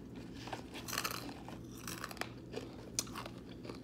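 Crunchy vegan food bitten and chewed close to the mic, a run of wet crunches and mouth sounds over a low steady background hum, with no talking.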